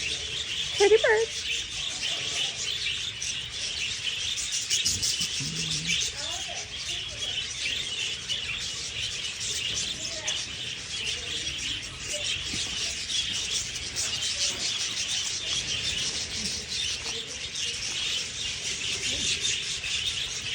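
Pet budgies chirp in short, faint bursts during feeding, set against a steady background hiss, with a person talking softly nearby.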